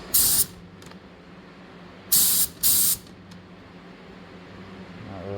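An R200 siphon spray gun sprays Nason 2K primer at about 30 psi in three short, loud hissing bursts, the first alone and the last two close together, with a low background hum between them.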